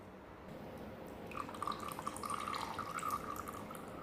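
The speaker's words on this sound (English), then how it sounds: "let's crack the sump plug and have a look" Oil drains from the sump of an abandoned Beta race bike, a barn find, after the plug is pulled: a steady faint trickle with light dripping, close by and alone, no talk.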